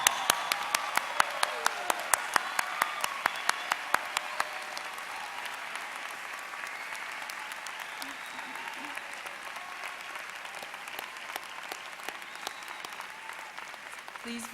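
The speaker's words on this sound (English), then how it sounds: "would like to salute you with a round of applause" Graduates receiving Master of Education degrees are applauded at a 2013 University of Illinois Chicago College of Education commencement. Sharp, crisp clapping starts strong, then settles into a steady, softer wash of applause from a large seated crowd.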